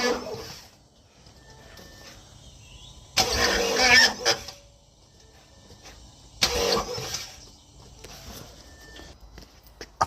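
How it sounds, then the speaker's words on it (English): A Ford Transit Custom EcoBlue diesel van with a no-start fault cranks over in two strained bursts of a few seconds each, separated by quiet gaps, loud and close, with no talking. "just see if it'll crank over and do things"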